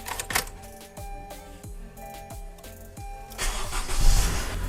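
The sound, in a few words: Honda car engine starting and running after transmission fluid change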